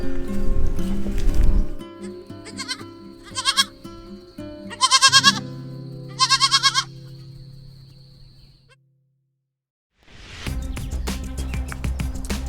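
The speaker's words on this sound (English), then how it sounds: "This is another baby goat that was abandoned by his mom" A baby goat bleats repeatedly, three or four loud wavering cries up close, with rustling and handling noise around them and a brief silence before noise returns.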